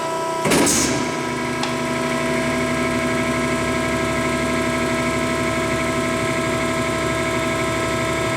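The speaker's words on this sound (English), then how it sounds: "Nice running machine, Pete." An Extrude Hone 8/6 Vector abrasive flow machine runs with a loud, steady mechanical hum and drone. A brief clunk sounds near the start, and the running noise holds close and unchanging throughout.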